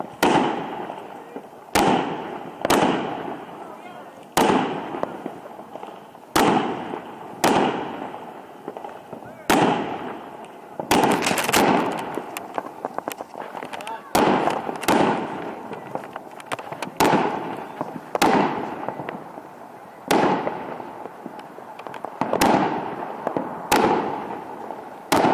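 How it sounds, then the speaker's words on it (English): July 4th fireworks crack and burst in a steady series of sharp, loud reports every second or two, some fast crackling runs between them, with people talking faintly in the background. "that's all the fireworks that we have."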